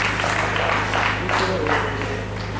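An audience at a reception for the Latécoère raid in Perpignan applauds in a continuous, dense wash of clapping throughout, moderately loud, with faint voices mixed underneath.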